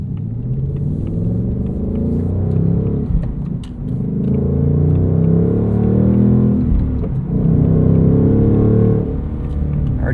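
Steady engine drone and rumble from a 2024 Ford Mustang Dark Horse with a 500hp engine and 6-speed manual, heard from inside while cruising on a morning commute, with brief dips in level like gear changes.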